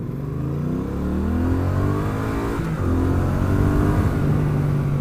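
Triumph Street Twin motorcycle engine pulling hard through long gears on British country roads, a steady loud drone with rising and shifting harmonics, close and continuous with no talk.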